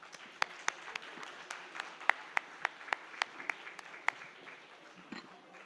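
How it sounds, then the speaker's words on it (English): An audience welcomes two keynote guests at a conference fireside session with scattered applause, a soft wash of many hands punctuated by a string of sharp, close individual claps that thins out toward the end. "let's welcome with a huge round of applause"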